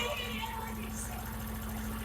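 A motorcycle engine runs steadily at raised RPM during carburetor tuning, giving a continuous close, dense hum with a throbbing low-end pulse and no breaks.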